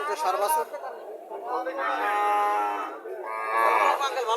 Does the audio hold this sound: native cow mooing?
yes